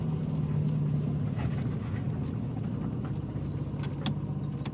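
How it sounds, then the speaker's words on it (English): An Austin Maestro barn-find car with its choke fully in settles into a steady, close, low engine idle that hums evenly throughout, with faint clicks and rattles on top. "that's now holding idle, the choke's fully in"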